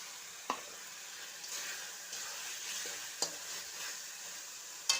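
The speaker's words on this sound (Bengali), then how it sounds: "টমেটোটা ঢেলে দিচ্ছি।" Tomatoes tipped into spiced masala already frying for a chicken and potato kosha, with a steady soft sizzle and sharp scraping stirs of a spoon against the pan. A few distinct clicks stand out above the continuous hiss, and no one speaks.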